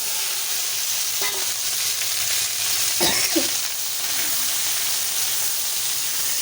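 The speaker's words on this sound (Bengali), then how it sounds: "ঢ্যাঁড়সগুলো ভালো করে নেড়ে চেড়ে ভেজে নেবো।" Sliced okra frying in hot oil with cumin seeds, a continuous close sizzle with a few scraping stirs of a spatula against the pan, one near the start and a louder one midway.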